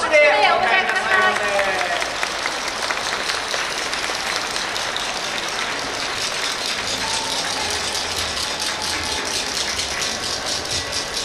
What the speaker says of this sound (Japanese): 皆様どうぞ拍手でお迎えください。